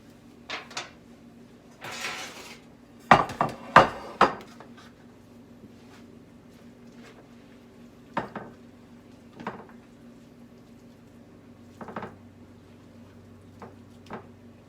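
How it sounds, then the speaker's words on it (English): Chicken casserole being portioned into baking dishes in a home kitchen: scattered clinks and clatters of dishes and utensils, a brief scrape and a few sharper knocks, moderately close against a quiet room hum, with no talking. "we're gonna divide this up in these dishes."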